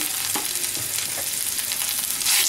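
Ginger, garlic and cumin paste frying in hot oil while being stirred, a dense continuous sizzle with a few soft scraping strokes, close and steady throughout.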